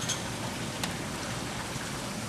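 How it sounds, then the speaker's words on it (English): Steady rain falls in a continuous broadband hiss, moderately loud, with a few sharper drop impacts and no voices. "it's been raining like crazy here too"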